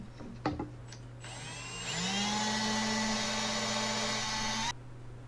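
A power drill drives a screw into a shelf board, its motor spinning up into a steady, loud whine for about three seconds before stopping abruptly, with a few light knocks before it.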